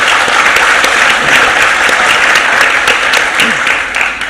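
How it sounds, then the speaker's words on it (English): Sustained audience applause fills the whole stretch at a talk event, a dense, even wash of many hands clapping at close range with no voices breaking through. "I give a round of applause"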